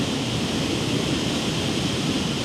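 Water surges and crashes in the rain, a loud, unbroken hissing wash of waves and spray close by, with no pauses or distinct breaks.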